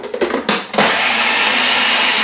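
A food processor chops a full bunch each of parsley and cilantro for falafel, starting with a few short loud pulses before settling into a steady, close, whirring roar.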